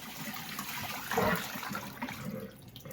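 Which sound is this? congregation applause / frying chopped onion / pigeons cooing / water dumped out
water dumped out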